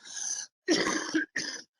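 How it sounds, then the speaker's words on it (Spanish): Three harsh bursts of coughing and throat clearing, close and distinct, separated by short pauses. "a ver si termino de toser"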